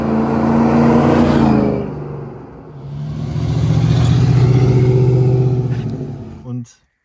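A Jeep Grand Cherokee 4.7 V8 on mud tires drives along, its engine rising and falling through a gear change with a steady low rumble, heard from inside the vehicle.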